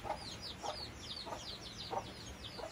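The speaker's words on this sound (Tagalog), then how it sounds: "Kunti na lang yung manok ni Ninoy Toroy." Chickens cluck in short repeated bursts, about every half second, fairly close with a quiet outdoor background.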